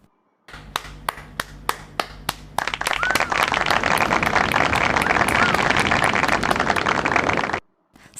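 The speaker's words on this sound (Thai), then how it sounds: "เสียงเบา ยกตัวอย่างเสียงปรบมือค่ะ" About eight sharp hand claps ring out one by one, then a dense burst of applause fills several seconds before stopping abruptly.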